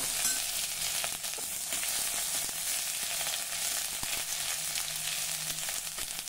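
Ginger-garlic paste and mustard seeds fry in hot oil with a dense, continuous crackling sizzle, loud and close, steady throughout with tiny pops.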